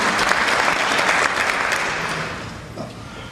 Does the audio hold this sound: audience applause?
yes